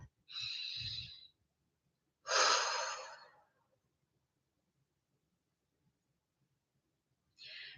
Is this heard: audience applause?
no